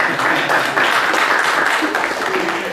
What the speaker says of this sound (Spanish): yo quería pedir un aplauso a todos los técnicos